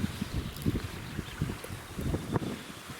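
Gusty wind buffets the microphone outdoors on a fossil-hunting beach in New Zealand, giving irregular low rumbling thumps over a steady broadband hiss.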